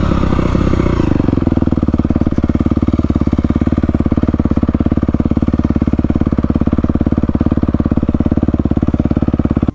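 A Honda CRF250R dirt bike engine runs close by, with a loud, rapid, steady thumping throb and some mechanical clatter throughout. No one speaks.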